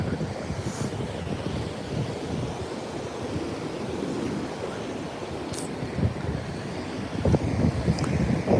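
Wind and surf on eroded Kuta beach in Bali, lined with rocks: steady wind buffeting the microphone over a constant wash of waves, growing louder toward the end.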